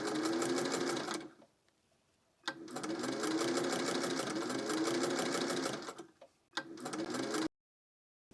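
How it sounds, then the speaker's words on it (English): A sewing machine runs in long steady bursts as it stitches a band onto a flat cap close to the fabric edge, loud and near, with a fast rhythmic whir, brief pauses between runs and a final stop. "Now I'm going to stitch the band to the hat, and I'm going to try to stitch very, very close to the edge of the band"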